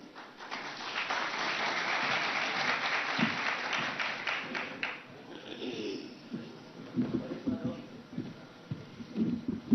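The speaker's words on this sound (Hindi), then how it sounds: "जोरदार तालियों से उनका स्वागत कीजिए।" An audience claps in welcome as a guest comes on stage at a political event, a dense burst of applause that thins out into scattered claps with faint murmuring.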